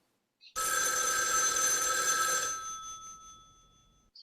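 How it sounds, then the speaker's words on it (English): A telephone in the Blackout video game rings with a sustained, bright electronic bell tone that holds for about two seconds and then fades out, loud and close with no talking. "Someone answer the damn phone!"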